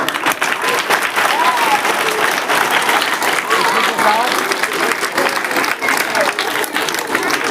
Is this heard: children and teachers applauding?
yes